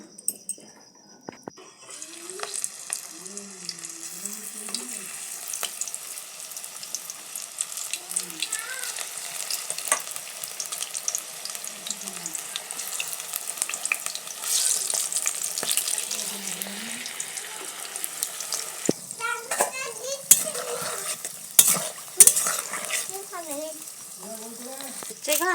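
Vegetable pakoras frying in hot oil, a steady bubbling sizzle that runs throughout, with stirring clatter and water-like sounds, loudest and busiest toward the end.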